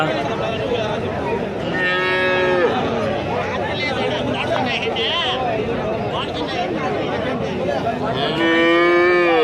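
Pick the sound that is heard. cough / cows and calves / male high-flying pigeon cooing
cows and calves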